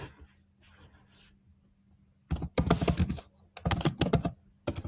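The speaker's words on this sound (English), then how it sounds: "let's just type it in" Typing on a computer keyboard while entering a company name into a job-search site: after about two seconds of near silence, bursts of rapid close key clatter with a brief pause between them.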